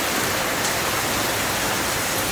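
Heavy afternoon rain pours down steadily in Thailand, a loud, dense, even hiss of water with no breaks and no voices.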